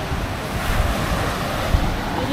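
Ocean surf rolls onto the beach at Rincon, a surfers' village, a continuous close wash of breaking waves with wind buffeting the microphone.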